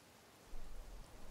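Rain falls in the forest of the video game The Forest as a constant, dense hiss that swells slightly partway through and carries on alone with no talking.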